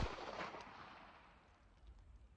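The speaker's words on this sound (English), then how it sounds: "I'm going to draw the pistol. I'm going to build a nice strong grip and apply pressure to the trigger and just allow the gun to go off." A pistol fires during a shooting drill: one quick crack at the very start, then a fading decay into quiet room tone.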